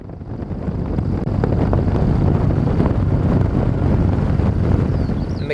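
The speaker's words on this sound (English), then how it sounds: "It's a little bit windy this morning" Steady wind gusts roar across a campsite in New Zealand's McKenzie country on a breezy morning, buffeting the microphone with a continuous low rumble from start to finish and no talking.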